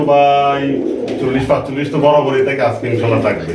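Kaldom pigeons coo in soft, throaty bursts close by while someone talks over them for most of the clip.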